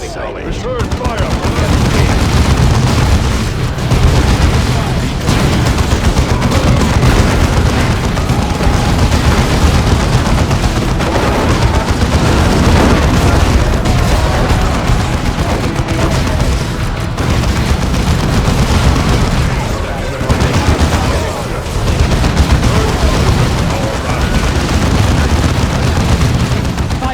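Relentless gunfire and booming artillery from a Warhammer 40,000: Dawn of War II Chaos Rising battle, loud and continuous, with overlapping shots and explosions and occasional unit voices under the din.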